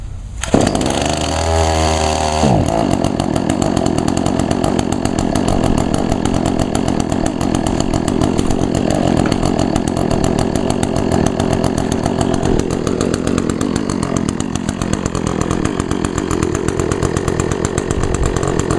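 Echo two-stroke outdoor power equipment engine, cold-started in winter, pulls over with a few rapid rattling cranks and then settles into a steady, loud, buzzing idle with a constant rhythmic putter throughout, no voices.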